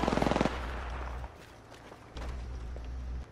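Gunfire in Apex Legends, a quick rapid burst of close automatic shots at the start, followed by quieter rumbling game noise and a few faint distant pops.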